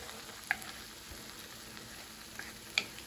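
Steak-Umms and pepper frying in a pan give a faint, steady sizzle close by, with a few small sharp pops or clicks and no voices.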